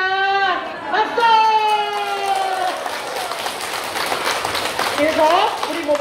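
Applause at a laughter exercise class for seniors, a dense patter of many hands spread across the clip, with voices chanting and calling out over it.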